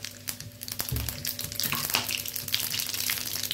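Cumin and mustard seeds, added with cloves, peppercorns and cardamom, fry in hot oil for a cauliflower and pea curry, crackling and popping in quick irregular bursts over a steady sizzle.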